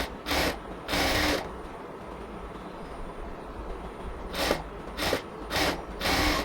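A sewing machine stitches a hem border of about 1.5 inches on a frock, running in short whirring bursts: two near the start, then a quiet pause, then a cluster of quick runs toward the end.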